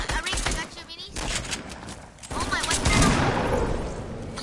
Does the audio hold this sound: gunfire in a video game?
yes